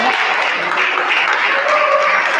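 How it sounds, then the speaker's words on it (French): An audience at a church gathering bursts into loud, sustained applause, with dense clapping filling the whole stretch and some crowd voices mixed in. "Acclamez pour le Seigneur pour ça."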